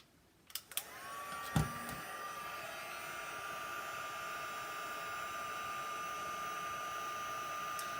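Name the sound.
heat tool heat-setting embossing powder on a card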